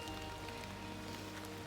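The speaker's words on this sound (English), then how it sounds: "it just started to rain pretty hard" Hard rain falling on the Appalachian Trail in Pennsylvania, a steady, dense hiss of drops that is close and continuous with no gaps and no voices.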